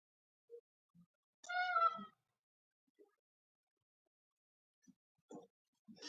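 A pet cat gives a faint, short meow indoors, followed by a few soft scattered noises in an otherwise quiet room.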